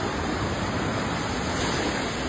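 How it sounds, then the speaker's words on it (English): Floodwater from the Ogden River in a Utah canyon rushes hard against a bridge, a loud, steady, unbroken roar of churning water with no voices. "You can feel the water hitting the bridge."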